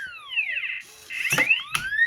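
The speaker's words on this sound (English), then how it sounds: "the alarm is going off" An electronic alarm clock sounds, warbling sweeping tones rising and falling, shrill and close, broken by rattling clunks as the alarm keeps going.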